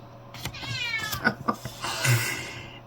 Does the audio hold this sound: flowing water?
no